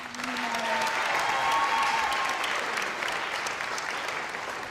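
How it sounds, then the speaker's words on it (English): Another round of applause from the audience at a charity fashion show, a dense, even wash of clapping from a large crowd, steady and full throughout with faint voices under it. "can we get another round of applause for Miss Bell?"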